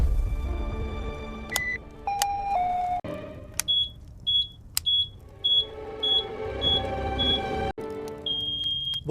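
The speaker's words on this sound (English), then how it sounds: "That is the smoke alarm." A smoke alarm sounds with loud, high electronic beeps in a regular repeating pattern, preceded by a few sharper tones and clanks.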